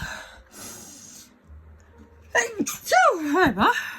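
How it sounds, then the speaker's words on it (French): A single sharp sneeze bursts out after a quiet pause, loud and close, preceded by a soft intake of breath. "Je vais éternuer."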